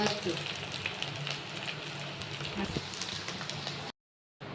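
Soft, continuous sizzling of a vegetable tempering in a pan with light crackles, fairly quiet, cutting out briefly near the end.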